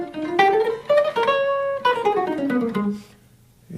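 A jazz guitar line bends and slides upward, settles on a held note, then glides back down, resolving through B natural; a short, close, solo phrase with no talking.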